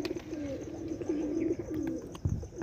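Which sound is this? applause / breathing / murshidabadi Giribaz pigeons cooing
murshidabadi Giribaz pigeons cooing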